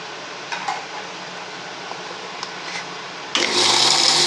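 A mixer grinder spinning ground moong dal with cashews, starting as a low mechanical hum with a few clicks, then surging into a loud, steady whirring roar for the last second.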